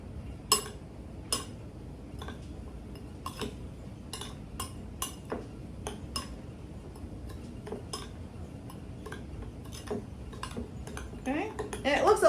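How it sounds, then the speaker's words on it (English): A spoon stirs a dry cocoa and sugar mixture in a bowl, giving a run of light, irregular clinks and scrapes against the dish at close range, with no talk over it. "you're gonna stir that together"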